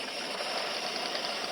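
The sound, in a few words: toy car engine starting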